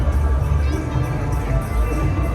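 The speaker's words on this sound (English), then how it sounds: "There's a huge crowd." Large, dense crowd gathered at the Dubai Mall fountain in the evening: a continuous low roar of many voices murmuring together, loud and close, with a few faint cheers rising now and then.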